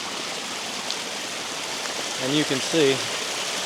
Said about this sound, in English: we've got some fast moving water.